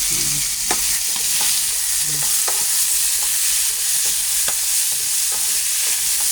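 Tomatoes hit a pan of sautéing garlic, onion and pork belly for pakbet, giving a loud, continuous close sizzle with sharp spatula scrapes and clicks at a steady rhythm, and no talking.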